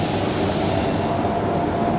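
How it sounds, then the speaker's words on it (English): A lab extruder runs up toward 40 RPM as a steady, dense mechanical drone with a high thin whine held constant throughout, loud and close. "and then you start the extruder, and then you go up again to 40 RPM."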